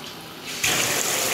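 Water starts running from a bathroom bidet tap in a home in Sweden, a steady hiss that swells abruptly as the flow opens fully, close and alone.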